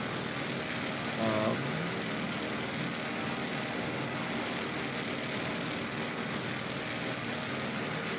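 Norseman bush plane with a big radial engine in Microsoft Flight Simulator VR, a steady, loud engine drone that holds an even pitch throughout.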